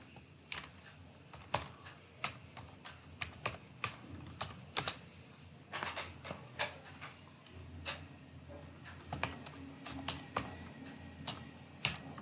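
Keys clatter on a computer keyboard while an office name is entered into an online pay-bill form, a quiet, close patter of uneven taps with short pauses.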